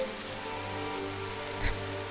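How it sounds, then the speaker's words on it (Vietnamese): Steady rain falls on surfaces at night, a soft continuous patter with a low hum beneath and one brief thud partway through. "trời mưa rồi"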